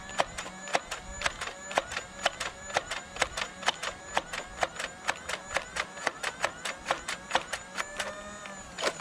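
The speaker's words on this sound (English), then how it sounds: "So the next thing we're going to be firing is end strike Elite darts, some modulus darts, other Nerf brand darts" Nerf Elite 2.0 Phoenix blaster firing worn Elite and Modulus darts: a rapid, steady run of sharp mechanical shots, about three per second, close and clear with no talk over them.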